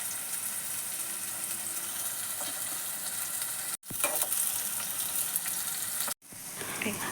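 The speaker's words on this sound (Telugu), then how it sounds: "కట్ చేసిన ఆనియన్స్ కూడా వేసి ఫ్రై చేస్తూ ఉండాలి పచ్చి వాసన పోయేదాకా" Chopped onions with cardamom, cinnamon, cloves and star anise frying in hot oil for chicken curry, a continuous close sizzle with occasional stirring scrapes and two brief cuts in the sound.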